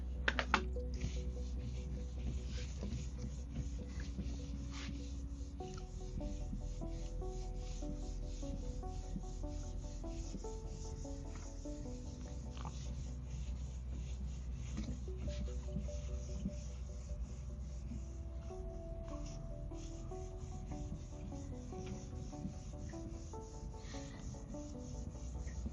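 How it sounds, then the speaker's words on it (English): Soft, steady rubbing and faint squeaky scraping as a whiteboard is wiped clean with an eraser, continuous and fairly quiet for the whole stretch with no talking. "let me go ahead and erase the board here"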